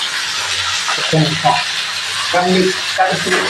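Ingredients sauté in a pan over heat, a soft continuous sizzle with occasional stirring scrapes, partly under a person talking in a kitchen.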